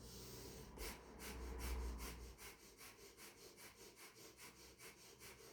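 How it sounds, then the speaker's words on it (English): Rapid, forceful yoga breath of fire, with rhythmic nasal exhalations pulsing about three times a second, close and moderately loud, following a single deeper breath. "you're going to begin the breath of fire at your pace"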